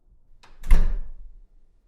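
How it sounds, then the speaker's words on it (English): A door closes with a single soft thunk in a quiet room, used as a sound effect in an audiobook, short and alone with no voices. "The door closed."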